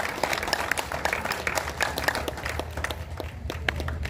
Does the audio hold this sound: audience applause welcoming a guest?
yes